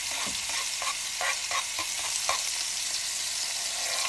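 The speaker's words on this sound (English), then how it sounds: "I'm just going to give these a stir and saute them up until they're translucent" Green and yellow peppers with onion sauté in a pan, a steady close sizzle broken by a series of rhythmic stirring scrapes over the first couple of seconds, with no talking.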